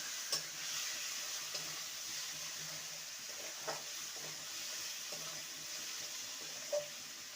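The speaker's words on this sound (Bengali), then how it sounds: "ভালো করে সমস্ত কিছু কষিয়ে নেবো" Ivy gourd (kudri) sautéed with spices and amchur powder, a soft continuous sizzle under occasional light stirring clinks and scrapes, close but quiet, with no voices.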